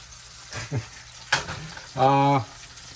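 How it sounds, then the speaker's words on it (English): A steak fries in a hot pan, with a steady sizzle going on throughout, broken up by a few clanks and scrapes as it is moved or stirred. A brief hum or tone also stands out, and no one speaks. "I'm gonna continue cooking this steak"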